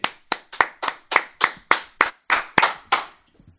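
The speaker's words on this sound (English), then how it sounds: "We gonna clap for my nigga though for the one time." A few people clap together in a small recording studio, about a dozen sharp, evenly spaced claps close up, ending with a couple of faint taps.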